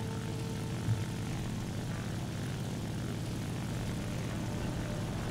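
A bomber's propeller engines drone in the War Thunder video game, a steady, low, buzzing hum that stays constant and moderately loud, with one brief thump near the start.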